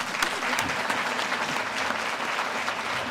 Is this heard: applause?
yes